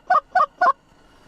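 Canada geese give three loud, evenly spaced honks close by during a late-season goose hunt in a snowstorm, then the calls stop and only quiet background remains.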